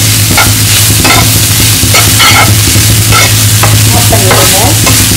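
Egg Maggi noodles frying loudly in a pan, a dense continuous sizzle right up close with repeated scraping strokes of a spoon as the noodles are mixed, no voices.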